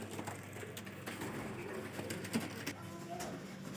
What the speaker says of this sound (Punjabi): ਦੇਖੋ ਮਾਸ਼ਾਅੱਲਾ ਕਬੂਤਰ ਹੈਗਾ ਜੇ ਫਿਰੋਜ਼ਪੁਰੀ